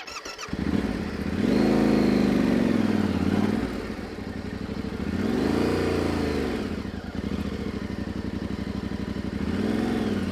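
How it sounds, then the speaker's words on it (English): A Yamaha Tenere 700 engine revs up and down in repeated swells while the clutch is feathered, loud and close, with a steady rumbling idle between rises. "You can see the revs are rising"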